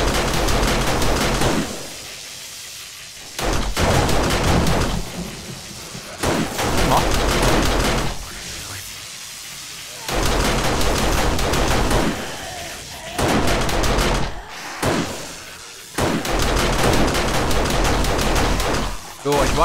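Auto turret gunfire during a horde night in the game 7 Days to Die: loud dense bursts of rapid shots come in long stretches with short gaps, while someone talks over it.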